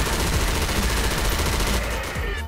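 Dense, continuous automatic gunfire in Counter-Strike Source zombie mode, loud and rapid throughout, thinning out slightly near the end.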